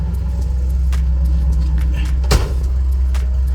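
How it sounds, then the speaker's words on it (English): A 1964 Ford Galaxie 500 engine with a new carburetor idling steadily, a loud close low rumble with a brief sharp clunk midway and no talk. "It seems to be running so much better now."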